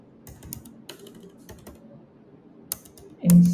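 Keys on a computer keyboard tap out a post caption in a quick, irregular patter of soft clicks, close and fairly quiet, ending with a louder thump.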